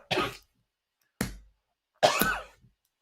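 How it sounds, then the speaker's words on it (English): Three separate cough-like bursts, close and fairly loud, sound against silence. The first and last are longer and raspier, and the middle one is a short hack. "Give me that whooping cough"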